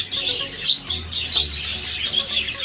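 Budgerigars chirp from inside a breeding nest box, with chicks present. The calls are rapid, high-pitched and overlapping, close and fairly loud, and no one talks over them.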